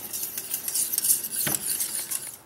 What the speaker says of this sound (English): Just keep stirring until it is smooth, like that.